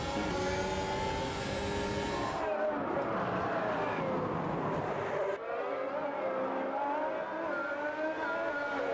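Race cars in Automobilista 2 roar off the start of a 2023 F1-style grid with wheelspin, engines wailing at high revs and tires scrabbling, loud and dense before the pack sound drops and thins.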